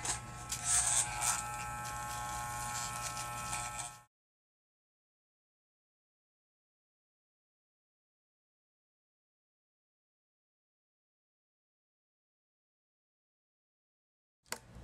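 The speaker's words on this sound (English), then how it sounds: "now I'm just gonna go in with the clippers" Electric hair clippers buzz steadily while trimming wig hair, a close, even whine lasting a few seconds before cutting off to silence, with a short burst at the very end.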